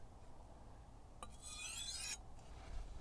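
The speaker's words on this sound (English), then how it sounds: "getting all the blade, sharpening the blade all the way up and down." A chef knife blade is drawn along a sharpener at a low angle, giving one quiet, close rasping stroke of about a second after a faint scrape, with near silence around it.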